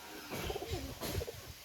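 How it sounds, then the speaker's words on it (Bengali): Pakistani teddy pigeons coo softly and close by in a few short, throaty, rolling phrases, with no other sounds around them. "এই পর্যন্ত যে কবুতরগুলো দেখলেন খুবই ভালো মানের কবুতর"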